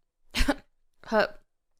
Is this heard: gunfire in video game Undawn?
no